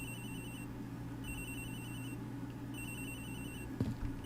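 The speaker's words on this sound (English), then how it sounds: "It's ringing from somewhere, sir. It's probably in one of the suitcases." A telephone rings in the Ace Attorney Investigations video game, a steady repeating electronic ring in bursts over a low constant hum, with a brief thump near the end and no talking.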